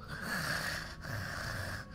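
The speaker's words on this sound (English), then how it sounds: "You can stop breathing now." Heavy, rasping breaths with a wheezy, snorting edge, sustained and loud, with a brief pause near the middle before resuming, close up and with no talking.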